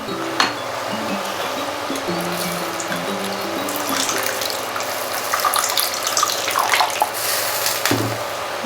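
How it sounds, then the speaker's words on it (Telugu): Water poured into a simmering chilli brinjal masala curry in a pot, a close splashing, trickling pour with a few light clinks of utensils. "ఇంకా వాటర్ పోసుకున్నామండి పది నిమిషాల పాటు ఉడకాలండి"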